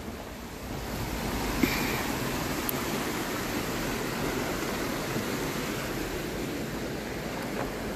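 Gold Brook rushing steadily in Stowe, Vermont: a continuous broadband wash of flowing water, close and fairly loud, with no voices.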